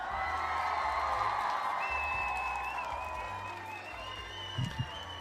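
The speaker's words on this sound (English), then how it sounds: "I do have an applause button." Canned applause and crowd cheering from a soundboard button during a live online Q&A, a steady wash of clapping that fades slightly toward the end, with a couple of brief thumps near the close.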